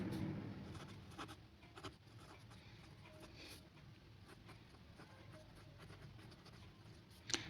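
A pen scratches an answer onto paper in a quiet room, faint irregular strokes and small taps repeating throughout, with a slight rustle near the end.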